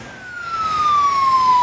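A loud emergency vehicle siren, from police and ambulances responding to tornado damage in Pensacola, wails as a single tone sweeping slowly downward, close and strong over a low road rumble.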